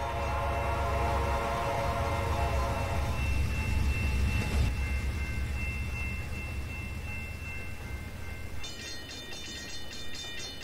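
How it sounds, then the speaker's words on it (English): A coal train rolls past in the Trainz railroad simulator, its engine rumble and wheel noise steady and loud, with a sustained horn tone early on, then a brighter clattering of wagons near the end. "So there went the coal train"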